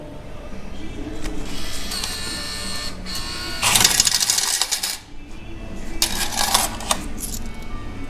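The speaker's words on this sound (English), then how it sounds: "A hamburger vending machine." A hamburger vending machine in an automat runs with clicking, rattling mechanical noises and bursts of whirring and clattering, moderately loud and near, with background chatter underneath.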